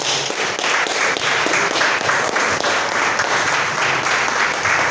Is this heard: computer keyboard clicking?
no